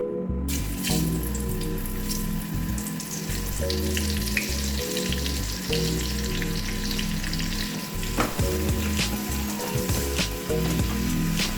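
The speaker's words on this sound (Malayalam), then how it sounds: "അപ്പോൾ നമുക്കിതൊന്ന് ചെറുതായിട്ടൊന്ന് ഫ്രൈ ആക്കി എടുക്കാം" Mushrooms fry in hot oil in a pan, a loud, continuous close sizzle and crackle with occasional stirring scrapes, and no speech.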